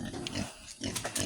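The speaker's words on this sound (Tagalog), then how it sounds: "Tapos ang baboy niya" Pigs on a farm grunt and oink in a few short, close snorts, loud and rough, with no talk.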